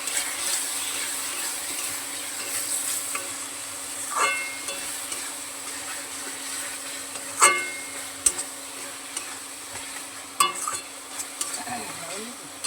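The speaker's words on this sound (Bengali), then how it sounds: "একটু টমেটো সস কিষানের দিয়ে এটাকে ভালো করে আমি কষিয়ে নেব।" Food being sautéed in a pan with Kissan tomato sauce for a Jamai Sasthi night meal, with a soft sizzle and occasional stirring clatters and scrapes close by, no talk.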